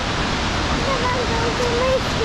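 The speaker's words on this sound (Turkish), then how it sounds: "Bu şelalenin ismi Tvindefoss'un." Tvindefoss waterfall in Norway roars as a steady, dense broadband rush of falling water, loud and continuous throughout with no pauses.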